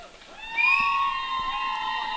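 Crowd noise fills a high school basketball gym, Marty Indian Braves against Colome Cowboys, as a player steps to the free-throw line: a steady murmur with a swell of shouting and high-pitched whistling that stays loud then eases slightly.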